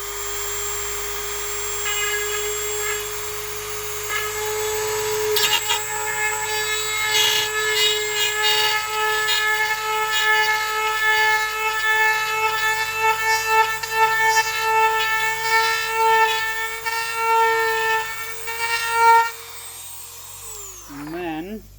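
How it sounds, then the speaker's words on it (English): A power drill whirs steadily for about twenty seconds, its pitch rising slightly under load before spinning down abruptly at the end. "I'm going to drill a hole"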